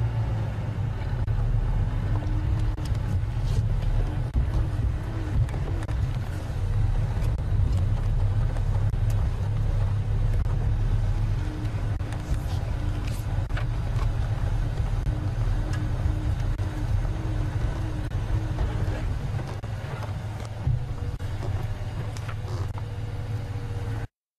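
Safari vehicles rumble steadily on a game drive, a continuous low engine and road noise that persists without clear pass-bys, fairly close and unbroken.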